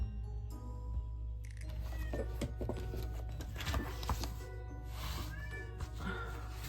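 House cat meowing indoors, faint and at a distance, a few short mews over a steady low hum and light shuffling noises.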